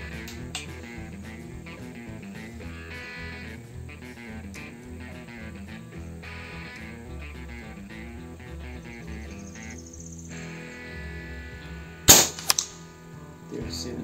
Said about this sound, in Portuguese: Segundo disparo.